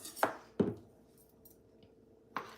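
A few sharp knife taps on a cutting board while chopping pickled jalapeños, two quick chops, a pause, then one more, close and fairly quiet.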